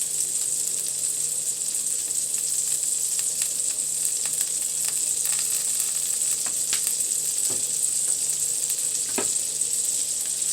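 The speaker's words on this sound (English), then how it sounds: "So in the pan I have curry, the shrimps, Szechuan seasoning," Curry shrimp with Szechuan and seafood seasoning frying in a pan: a steady, close, bright sizzle with scattered pops and crackles throughout, no voices.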